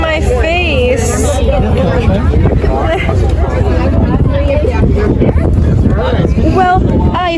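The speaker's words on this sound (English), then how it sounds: "The wind was blowing in my face." Wind rumbles into the microphone aboard a whale watching boat, a loud, steady roar running under people talking nearby.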